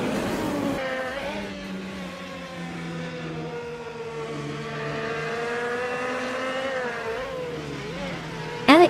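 Several race cars in a racing video game roar past one another while overtaking, their engine pitches rising and falling in a dense, steady whine that runs without a break, ending in a short louder burst.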